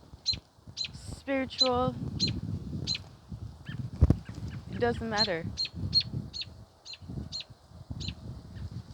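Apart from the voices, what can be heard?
birds singing outdoors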